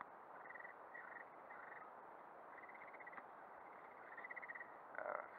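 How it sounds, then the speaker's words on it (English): Frogs croak steadily through the whole stretch, a dense continuous chorus with repeated bursts of calls over a constant wash of background noise, with no voices. "Froggies are croaking again."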